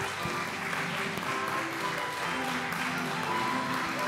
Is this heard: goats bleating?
no